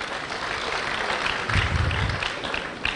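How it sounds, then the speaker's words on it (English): Audience at a public lecture on reproductive health innovation applauds, a continuous patter of many hands clapping at moderate distance, steady for the full stretch with a slight swell midway. "Please clap for us."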